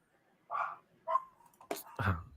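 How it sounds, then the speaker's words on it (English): A dog gives several short, sharp barks in quick succession, about half a second apart, fairly close and moderately loud, with a faint voice murmuring in the background. "is my dog barking too loud?"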